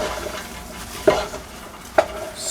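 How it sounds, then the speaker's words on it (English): Chopped cabbage is stirred into a pot of hot butter, producing a low rustle with two distinct spoon clacks against the pot and a faint sizzle underneath. "stir it all up"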